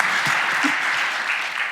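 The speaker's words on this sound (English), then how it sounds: "We should all stand up and clap." Sustained audience applause at an environment conference, a thick, even wash of clapping heard close and steady from start to finish, tapering slightly toward the end.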